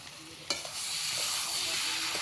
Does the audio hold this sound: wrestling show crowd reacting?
no